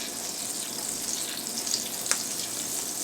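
Butter sizzling in olive oil in a frying pan, a continuous bright hiss with small pops and a sharp crackle, close up.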